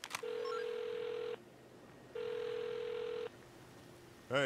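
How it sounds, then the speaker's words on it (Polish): Phone ringing in Saints Row, two long electronic ring tones separated by a short pause, clear and steady, followed by a brief burst of voice at the end. "Kurwa, odbierz po telefon."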